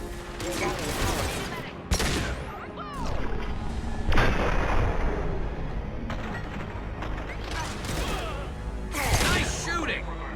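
Combat in the video game Mass Effect 2: dense rattling gunfire is mixed with heavy artillery booms and sharp blasts. The firing is loud and nearly continuous, with a few louder impacts standing out.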